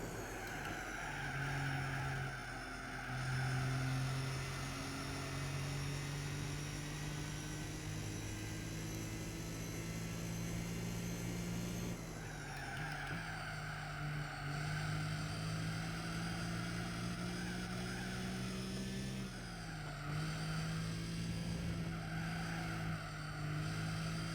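A race car engine in Gran Turismo 4 drones steadily through a turbo sport race, its pitch climbing through long gear pulls and dipping briefly at shifts, loud and continuous without any talk.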